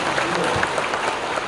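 An audience claps in a dense, even burst of applause for the whole brief moment, close and fairly loud.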